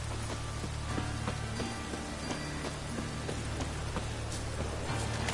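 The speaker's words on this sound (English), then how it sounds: "Raining buckets." Heavy rain pours in a steady, dense wash of hiss, with scattered close drop taps running through it for the whole stretch and no voices.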